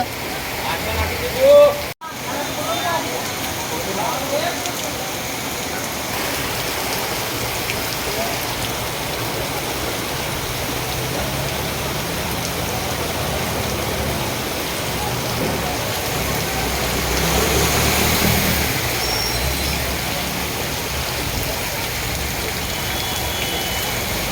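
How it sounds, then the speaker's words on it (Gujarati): Heavy rain pours down in Kodinar, Gir Somnath, in a steady, dense hiss that swells slightly near the end, with a single knock early on. "ખૂબ જ સારો વરસાદ પડી રહ્યો છે"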